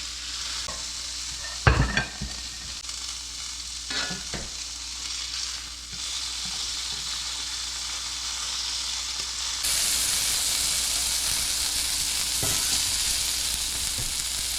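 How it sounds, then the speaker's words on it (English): A smash burger and Peruvian sweet onion sizzling on a skillet, a constant hissing fry with a few sharp spatula scrapes and knocks, growing louder and brighter partway through, close with no voices. "Now the aroma of that cooking burger and that Peruvian sweet onion cooking over there"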